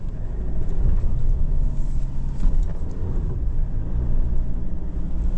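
A 2025 Mitsubishi Triton GLX-R ute's engine holds a steady, loud, low rumble under constant throttle while climbing off-road, continuous and close, with no voices.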